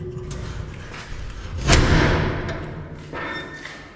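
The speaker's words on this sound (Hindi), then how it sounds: "तो ये दरवाज़ा मैं खोल के" A door swung open in a house for sale in Rawalpindi gives one dull, fairly loud thud partway through, over a low room hum with no talking.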